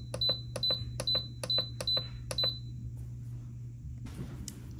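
A multicooker with its lid locked on a load of pasta and cauliflower gives a run of six sharp, evenly spaced electronic beeps as its cooking time is set, then falls quiet over a low steady hum.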